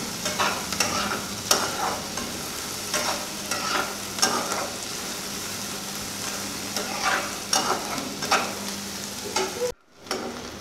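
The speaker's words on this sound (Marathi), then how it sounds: "कांदा, हिरवी मिरची, जिरे हे चांगलं परतून घ्यायचं तेलावर." Chopped onion, green chili and cumin sautéing in hot oil for a green mutton curry, a steady sizzle broken by repeated scraping stirs of a spoon in the pan, close and without speech.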